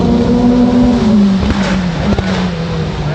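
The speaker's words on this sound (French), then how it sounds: "il y a des voitures qui tournent toujours" Race cars roar past on the Le Mans circuit near Arnage and Indianapolis during the 2021 24 Hours of Le Mans, loud engine notes sweeping down in pitch as they go by, with another car following close behind.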